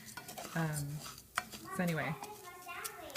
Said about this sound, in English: So right now it's just the rice and the oil, and I am stirring it at times so that it doesn't burn in spots.